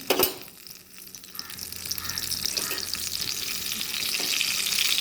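Kanthari chillies fry in hot coconut oil, giving a close, steady sizzle that swells and grows louder over a few seconds, with no talking.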